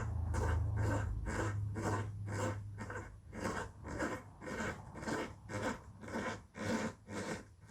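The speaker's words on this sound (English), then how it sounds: "I do all this just with a screwdriver." Rhythmic, repeated scraping twists of a screwdriver driving a screw by hand into wood while installing quadrant hinges on a jewelry box, about a dozen strokes, close and fairly quiet.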